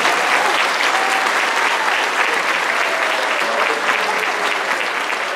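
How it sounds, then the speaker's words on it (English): An audience at a school spring concert gives a round of applause for the sound technician, with steady, dense clapping close by that holds for the whole stretch without a break. "Give a round of applause for Michael Melvin."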